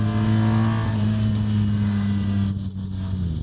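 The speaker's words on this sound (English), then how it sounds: "Look, it's almost hitting the rev limiter here." BMW R 1300 GS Adventure automatic version held at high revs near the rev limiter, a loud sustained engine drone with steady pitch that dips slightly toward the end, heard up close while riding.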